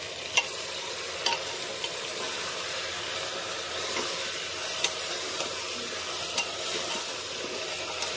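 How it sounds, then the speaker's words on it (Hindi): Steady sizzling and frying with occasional stirring clinks, a continuous hiss of mutton cooking in a hot pressure cooker, no talking. "अच्छे से अभी इसको मिक्स करके हमें इसे भून लेना है।"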